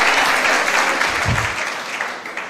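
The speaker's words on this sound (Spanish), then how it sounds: "si va a aplaudir a Dios, dele con ganas" A church congregation bursts into loud, dense applause that fills the space and carries on steadily before gradually thinning out.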